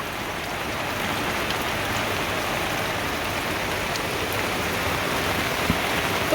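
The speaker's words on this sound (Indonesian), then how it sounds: "Hari ini cuacanya hujan ya teman-teman." Heavy rain falling steadily, a dense, even hiss of drops on surfaces that stays constant and fairly loud from start to finish, with no voices.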